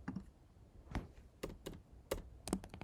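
Keystrokes on a computer keyboard during spreadsheet formula entry, a sparse run of about six or seven distinct clicks at an uneven pace, close and fairly quiet with no talking.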